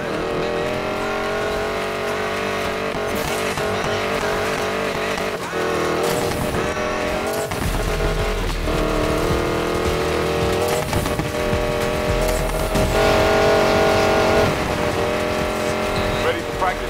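Hypercar racing engine in the video game Need for Speed Payback, a loud sustained whine that revs and shifts pitch under game music, with brief tire squeal and voices talking over it.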